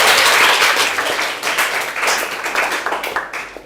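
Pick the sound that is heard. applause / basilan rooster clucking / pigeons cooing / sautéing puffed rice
applause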